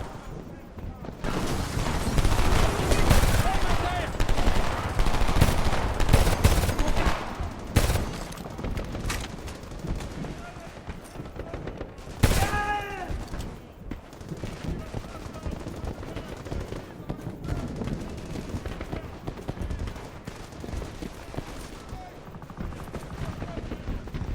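Gunfire from the Homefront video game: bursts of shots and heavy booms crackle loudly and irregularly, with soldiers shouting in French over the battle.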